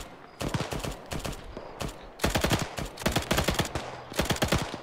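Sustained bursts of rapid gunfire in Arma 3, heavy automatic volleys with brief pauses between them that grow denser and louder toward the end, close and dominant throughout.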